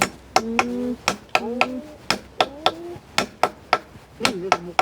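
Series of sharp hammer blows on wood, roughly ten strikes in a steady rhythm, loud and close, while someone talks in Thai between and over the strikes.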